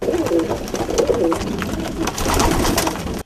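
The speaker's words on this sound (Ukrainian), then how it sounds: "У колекції родини Яцьків понад сотня спортивних голубів із десяток білокрилих." Sport pigeons, including white-winged birds, coo in a family's loft collection in Kalush, Ukraine: a close, dense, overlapping murmur of throaty calls that runs throughout.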